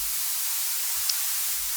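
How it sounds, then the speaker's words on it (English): A soloed white noise riser in music production sounds as a steady, bright hiss that holds at an even level throughout, with no other sounds. "it's just simple white noise"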